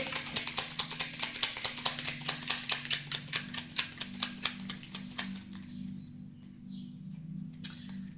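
Tarot cards are shuffled in a quick run of about thirty rapid riffling flicks, then stop, leaving a faint steady hum and a brief soft rustle near the end, with no talking.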